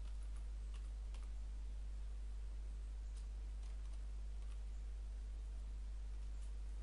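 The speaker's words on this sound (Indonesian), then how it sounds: "Pertama kita ketikkan write-len." Soft, steady clicking of computer keyboard keys being typed, quiet and close, with a faint hiss underneath and no voices.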